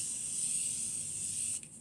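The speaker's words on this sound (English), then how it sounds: "Another one that I really have been liking lately is my Morphe one, the continuous setting spray." A Morphe continuous setting spray releases a steady, fine misting hiss for about a second and a half, then cuts off abruptly, close up with no talking.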